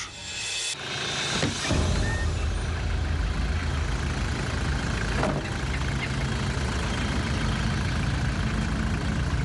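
A vehicle engine idles before a long trip with a steady, loud low rumble that holds unchanged for several seconds after a short lead-in, with no voices.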